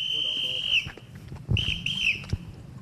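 A long whistle blast followed by two short ones signals incoming artillery fire during a military reservist drill on a 10 km armed tactical march. It rings out clearly over background rumble and rustling.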